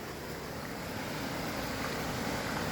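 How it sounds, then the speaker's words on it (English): Water from a waterfall rushes in a steady, broad hiss at low volume, with a continuous wash of noise and no talking. "We've found the waterfall."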